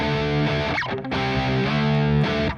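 Heavily distorted electric guitar power chords ring out in sustained, saturated bursts, with a brief break near the middle before the chords are struck again.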